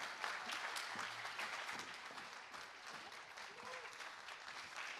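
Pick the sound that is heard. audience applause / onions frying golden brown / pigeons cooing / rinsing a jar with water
audience applause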